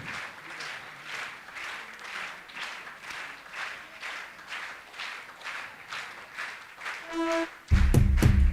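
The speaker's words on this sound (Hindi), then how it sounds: "तालियां बजती रहना चाहिए आपकी।" An audience at an annual religious festival gathering claps steadily through a lamp-lighting ceremony, rhythmic moderately loud applause that ends abruptly in a burst of loud low-frequency noise and a brief tonal sound.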